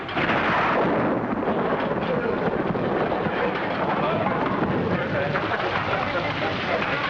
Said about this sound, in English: Don't worry about the rain.